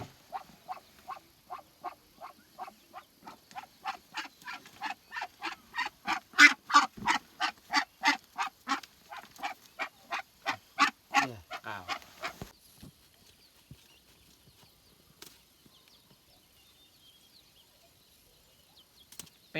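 A run of loud, rhythmic quacks from a group of ducks, rising then tapering into scattered calls and quiet.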